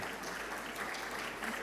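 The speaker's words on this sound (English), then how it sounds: "Round of applause for Naomi." Audience applause after a talk at a LEGO event, a short steady burst of clapping at moderate volume with no other sound standing out.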